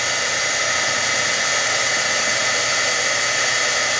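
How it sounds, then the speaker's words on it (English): A heat gun warming up to set embossing powder on a craft pop-up card gives a loud, steady airy roar with a constant fan hiss that runs unchanged throughout. "we're going to heat set our embossing powder. Takes a little bit for my gun to warm up"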